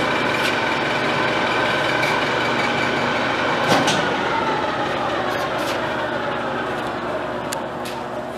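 An Okuma LS 540X1500 21" x 59" engine lathe cuts a thread with its half nut engaged, giving a steady, loud mechanical drone and whine close by, broken by one brief clank midway.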